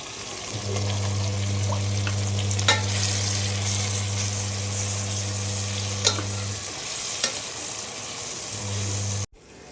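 Ginger and garlic fry in a pan for chicken biryani, a steady close sizzle with occasional stirring clinks over a constant low hum that drops out briefly before returning, then cuts off at the end.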